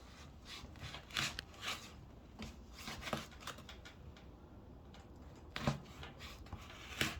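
A knife cuts thin slices of pastırma, cured beef, in quiet, irregular scraping strokes, a few sharper crisp cuts standing out over a faint background.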